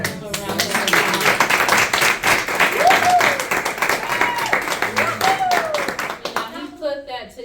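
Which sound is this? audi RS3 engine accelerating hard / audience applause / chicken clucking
audience applause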